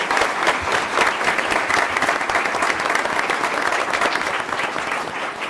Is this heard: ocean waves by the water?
no